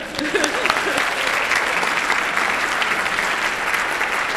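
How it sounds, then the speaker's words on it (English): Sustained audience applause fills a school auditorium during a National Honor Society induction ceremony, a dense steady wash of many hands clapping at even loudness for several seconds, with a few faint voices underneath. "Great, we can have another round of applause."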